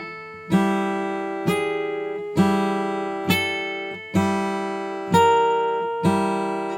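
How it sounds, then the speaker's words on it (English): Open third and first guitar strings plucked together with the fingers, seven clean, evenly spaced notes that each ring and decay, close and alone. "I'm playing the third and first string, which are open notes"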